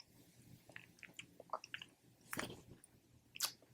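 Crunchy, salty, cheesy snack food being chewed up close, with soft irregular crunches and squishy bites that swell into a couple of louder crackling chews, quiet and without talk.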